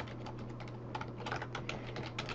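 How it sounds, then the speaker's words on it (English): Typing and clicking on a computer keyboard while filling in Excel worksheet cells, a steady run of close, fast key clicks over a low constant hum, no talk. "all it is typing and clicking in cells"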